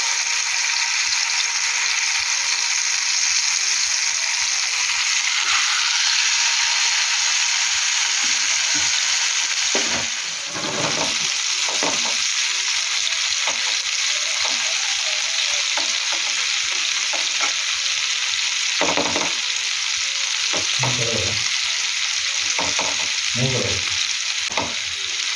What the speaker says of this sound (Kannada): ಮೀಡಿಯಮ್ ಫ್ಲೇಮಲ್ಲಿ ಇಟ್ಟಿದ್ದೇನೆ ಗ್ಯಾಸು, ನಿಧಾನ ಫ್ರೈ ಆಗಲಿ.